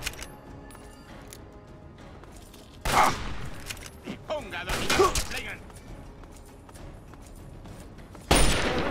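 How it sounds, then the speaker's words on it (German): Several separate gunshots fired into a wall in Fallout 3: loud sharp bangs spaced apart, one followed by a rattling impact, against quiet background. "Löcher in die Wand geschossen"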